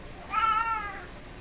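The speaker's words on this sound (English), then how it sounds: "Excuse me while I speak with my cat for a minute." A pet cat gives a single clear meow, close and fairly loud, rising and falling over about a second with no talking over it.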